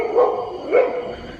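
Dogs give two short, bright barks about half a second apart, fairly close and moderately loud, against quiet room background.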